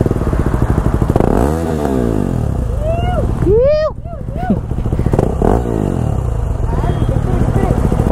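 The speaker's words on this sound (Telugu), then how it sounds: "మన బైక్ వినిపిద్దాం." Close, loud motorcycle with a modified aftermarket exhaust, idling with a deep rapid thump and then revved hard several times in sharp rising bursts, with talk over it at a fuel station.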